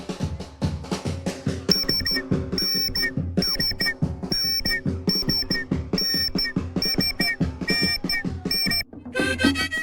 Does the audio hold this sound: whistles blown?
yes